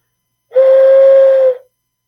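A homemade toy steam whistle blown once, giving a single steady, loud tone with strong harmonics that holds for about a second and then cuts off, with no other sounds around it.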